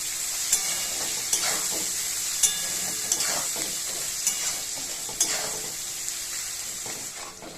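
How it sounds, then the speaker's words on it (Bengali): Chopped onions fry with a pinch of salt in a pan for a jackfruit and prawn curry, sizzling steadily up close while a spatula scrapes in regular strokes, with no voices. "দেখুন বন্ধুরা পেঁয়াজটা ভাজা হয়ে গেছে"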